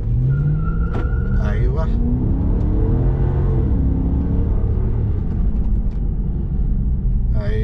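A Chrysler 300C with a 5.7-litre 360 BHP V8 launches hard, the engine roaring up through a rising rev sweep with a deep rumble, loud and close from inside the car, a brief voice over it.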